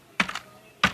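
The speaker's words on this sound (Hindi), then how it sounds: "शिफ्ट दबा के एंड का बटन दबाएंगे और इसके बाद कंट्रोल दबा के सी दबा के इसको कॉपी कर लेंगे" Key presses on a computer keyboard: shift, end, control and C, heard as a few sharp clicks, with two quick taps early and a single clear tap near the end, close and alone.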